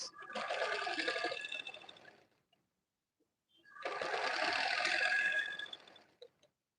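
Sewing machine stitching gathers on satin fabric, two steady close bursts of rapid motor whir about two seconds each, separated by a short silent pause, with no talking.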